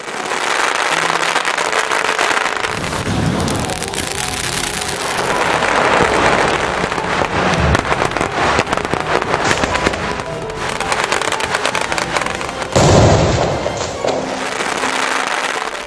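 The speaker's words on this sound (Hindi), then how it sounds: "ये गगन भेदी आसमानी पटाखे और उससे भी घनघोर उनकी आवाजें" Diwali fireworks bursting overhead in a dense, continuous barrage of loud crackling and booming explosions, with rapid overlapping bangs and no pause across the whole stretch.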